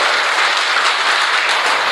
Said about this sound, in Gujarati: એમની માટે એકવાર જોરદાર તાળીઓ થઈ જાય